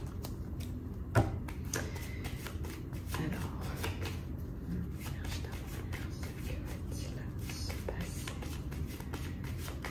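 A 32-card deck being shuffled for a tarot reading, close and continuous riffling and flicking of cards throughout, with one sharper tap near the start.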